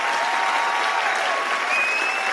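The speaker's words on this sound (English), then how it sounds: "Let's get one big round of applause again for Rapid Eye Madness by Moonstorm." An audience at a live indie game pitch competition applauds a team, dense steady clapping from a crowd filling the whole moment.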